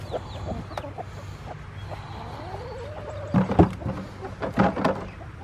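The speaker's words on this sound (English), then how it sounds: "These are a few of our older laying hens that are now a couple years old." Older laying hens, a couple of years old, cluck softly on a farm, with a few louder clucks and squawks close by near the end over a low background hum.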